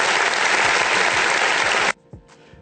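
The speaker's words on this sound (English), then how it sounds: "I just want to give a round of applause for her" Loud, dense applause from an audience, steady and broadband for about two seconds before cutting off abruptly, leaving a few faint trailing claps.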